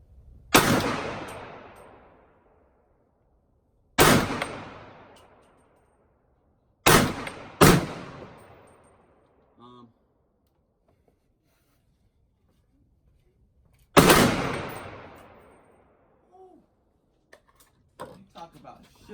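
AR-style rifle fired at an outdoor shooting range, five loud sharp shots spaced a few seconds apart, two close together in the middle, each with a ringing decay, followed by faint handling clicks.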